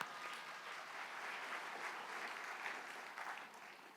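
A church congregation claps to welcome the pastor at a New Year blessing service, a steady, fairly faint wash of applause filling the room for several seconds with no voices standing out.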